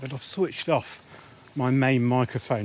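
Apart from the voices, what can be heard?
None of the usual background noises is heard.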